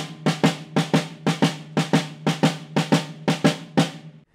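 Drum strokes in a swung, long-short jazz triplet feel, uneven pairs of resonant hits repeating steadily for several bars, close and alone with no talking.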